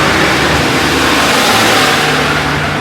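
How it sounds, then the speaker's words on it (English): A tractor driving past in a small village, a steady loud engine rumble that stays close and even throughout, with no voices. "another tractor went by"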